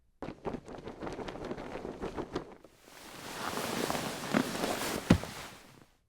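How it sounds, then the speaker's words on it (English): Soft, scuffing footsteps shuffle close by for a couple of seconds, then fade under a rising wash of breathy, windy noise. "we get into the footsteps of them moving around and everything"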